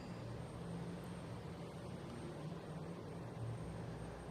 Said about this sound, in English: So we just had a American Airlines take off